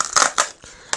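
Scissors snip open a plastic sauce packet for grilled sardines in a few quick, crisp cuts, with short crinkly bursts separated by pauses, close up and without talking.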